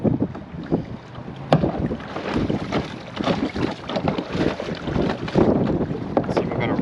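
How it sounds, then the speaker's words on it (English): A kayak is hauled across a beach in blustery wind on an estuary shore, with close, irregular scraping and thudding drags under heavy gusts buffeting the microphone. "What I'm going to do is just try and drag my kayak along the beach as far as I can go."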